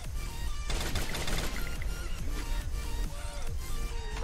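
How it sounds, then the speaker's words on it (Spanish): Gunfire in the mobile battle royale game Free Fire, including the FAMAS rifle: a dense, continuous stretch of loud overlapping shots and impacts with no pauses, heard without any voices. "se escucha balazo"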